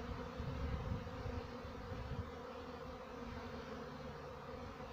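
A honeybee swarm being introduced into a hive in Bydgoszcz, Poland, giving a dense, continuous buzzing drone heard close up, steady and moderately loud with no talking.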